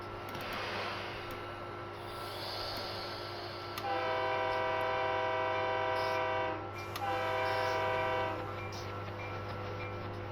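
A Northeast Corridor commuter train pulls out of Cornwells Heights station, with a steady low rumble beneath two long, loud horn blasts in sequence; no speech.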